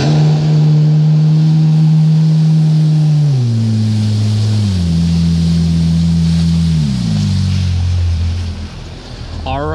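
A GPR SHO personal watercraft runs fast over choppy waves: a loud, close engine drone steps up and down in pitch as throttle shifts, over a constant rush of wind and water spray.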